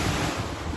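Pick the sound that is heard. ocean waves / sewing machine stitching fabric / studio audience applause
ocean waves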